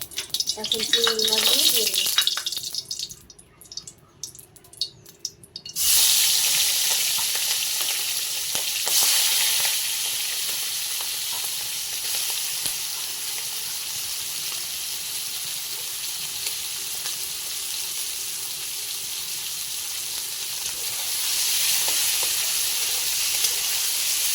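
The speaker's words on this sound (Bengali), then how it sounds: "তেলটা গরম হয়ে গেলে চিংড়ি মাছে লাল লাল করে ভেজে নেব" Shrimp frying in hot oil, a loud, close, continuous sizzling hiss that swells after a brief quieter, mixed opening and holds steady to the end.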